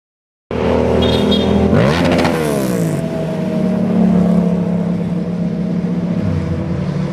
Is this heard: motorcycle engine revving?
yes